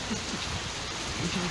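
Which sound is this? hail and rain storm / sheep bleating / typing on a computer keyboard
hail and rain storm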